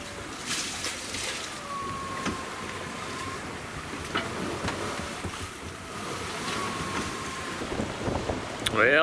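A sailboat heads north in the Gulf of California on a lumpy ride, with continuous wind rush, water wash and creaking against the hull, steady and close throughout.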